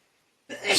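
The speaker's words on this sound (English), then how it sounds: "I gotta sneeze." A single short burst of a person sneezing, sharp and close, coming right after a brief silence.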